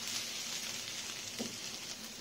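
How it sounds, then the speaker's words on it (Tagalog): Small fish and egg fry in a pan while being stirred, producing a steady close sizzle with a brief scrape of the utensil partway through. "Halo-haloin natin hanggang sa ito ay maluto."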